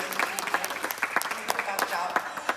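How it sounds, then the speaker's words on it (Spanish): Circus audience applauding aerial artist Cassandra, a scattering of sharp individual claps over a low crowd wash at moderate level, with a voice talking over it. "Un aplauso para ella, claro que sí."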